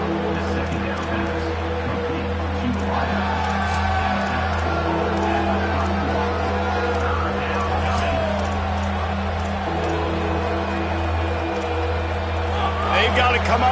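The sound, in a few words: football stadium crowd cheering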